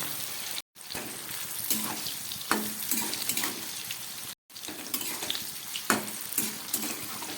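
Soaked flat beans frying in a little oil, a close, continuous crackling sizzle with occasional stirring scrapes and brief cuts, no talk.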